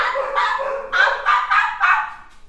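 A dog barks several times at close range, a loud run of sharp, closely spaced barks with a brief pause partway through.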